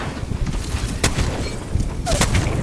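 Gunfire in a shooting video game, sharp cracking shots popping out of a steady noisy rumble, one near the middle and a closer pair toward the end, with players talking over the action.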